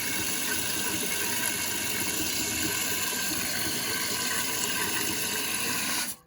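Water rushing steadily into a toilet tank, a constant close hiss and gurgle that stops abruptly near the end.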